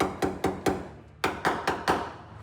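A hammer taps the rusty rear quarter panel of a Toyota 4Runner near the wheel opening. About eight close metallic knocks come in two groups: three ringing taps, a pause, then four or five more.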